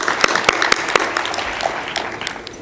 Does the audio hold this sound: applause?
yes